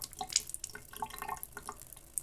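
Water from a neti pot pours through the nose and drains into a sink, making a close, continuous trickle with scattered drips and splashes. No voices.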